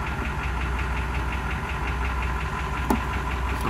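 Oldsmobile diesel engine running at fast idle, a steady close rhythmic knocking clatter with a constant rumble, loud and continuous with no talking.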